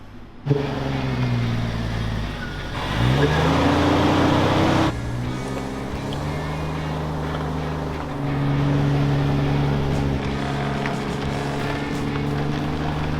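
A Jeep engine drones steadily as it drags an extremely long car, a low harmonic rumble that rises and falls with throttle changes and surges louder in two stretches over wind noise.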